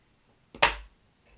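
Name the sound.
scissors trimming pheasant tail fibres on a fly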